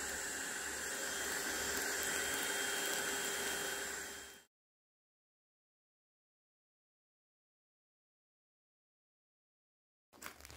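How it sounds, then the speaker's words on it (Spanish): A steady, loud broadband whoosh of a vacuum cleaner motor pulling air out of a clothes storage bag runs for about four seconds, cuts off to silence, then briefly restarts near the end. "conecto la aspiradora y la enciendo y miren cómo se va."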